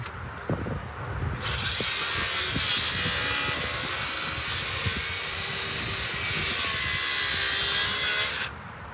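A power saw cuts around a wooden deck guard rail post in place, a loud, sustained, rough whining rasp that starts abruptly after a few knocks, holds for about seven seconds, then cuts off.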